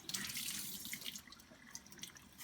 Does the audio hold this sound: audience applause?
no